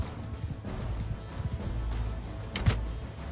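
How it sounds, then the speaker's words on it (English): Cavalry horses gallop in the medieval battle game Mount and Blade Bannerlord, a rapid, uneven clip-clop of hooves over a loud rumbling battle din, with a sharp impact near the end and no talking. "Those horses there are kind of coming from behind though."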